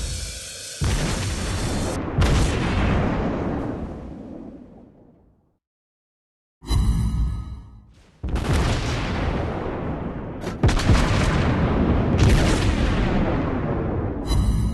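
Naval guns of the German cruiser Nurnberg firing in a video game, several heavy booming salvos with long rumbling decays, one fading to silence before more loud blasts follow close together.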